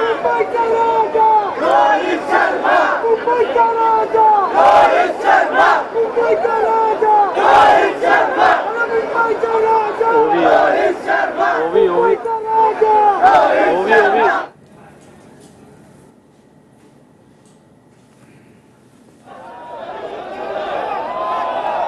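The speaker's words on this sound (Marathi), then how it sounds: "मुंबईचा राजा रोहित शर्मा अशा घोषणा या ठिकाणी दिल्या जात आहेत।" A huge crowd on Marine Drive chants slogans welcoming Team India, loud dense rhythmic shouting and cheering for about fourteen seconds, then drops to a quieter murmur before rising again near the end.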